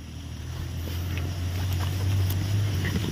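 Motorboat engine drones steadily and grows slightly louder as it approaches over water, with wind buffeting the microphone.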